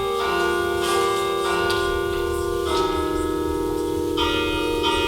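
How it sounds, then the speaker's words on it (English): Restored church carillon bells ring out loudly and steadily, overlapping tones sustaining and layering as new strikes enter, with no speech over the ringing. "part of that voice was silenced due to the carillon bells not working"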